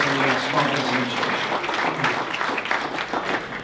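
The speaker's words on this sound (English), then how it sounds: "let's have a round of applause for Bob Nelson from Massachusetts" Applause from the audience at a chamber of commerce business forum, a dense and steady round of clapping that fills the room, fairly close and even throughout, with a little voice underneath.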